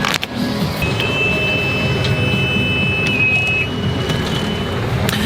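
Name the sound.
low oil pressure warning beeping when starting boat diesel engines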